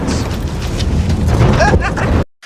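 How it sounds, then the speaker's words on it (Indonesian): A gunshot in the film Hell or High Water, fired by a bank customer at fleeing robbers, lands as a loud, harsh, roaring burst that fills about two seconds before cutting off abruptly. "Letusan tembakan barusan jelas menarik perhatian aparat."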